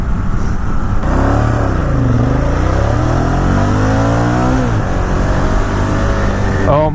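A 2017 Ducati Monster 1200 R engine revs hard and surges between 7,000 and 10,000 RPM in sport mode, loud and close, pitch rising and falling in sweeps before climbing again.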